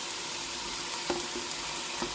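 Eggplant, green chilli and tomato pieces frying in two spoons of oil in a pan give a soft steady sizzle, with a couple of brief clinks and stirring sounds close by.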